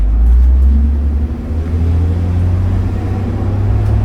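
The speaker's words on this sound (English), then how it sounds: "this bus shifts into gear real nice" A 2003 New Flyer D40LF city bus on a Calgary Transit route, its diesel engine droning in a loud, steady low rumble heard from inside, with slight shifts in pitch as it pulls along.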